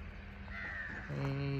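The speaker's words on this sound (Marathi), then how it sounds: "सकाळ सकाळी कावळे येते." A crow caws once or twice at a moderate distance over a low background hum, with a voice speaking briefly, in the morning at Rajgad fort.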